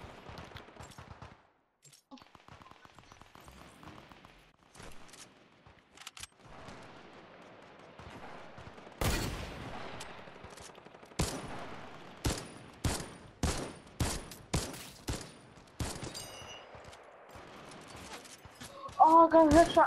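Gunfire in the video game Fortnite, scattered single shots early, then a run of sharp, evenly spaced bursts growing louder toward the end, with a player's voice talking in between.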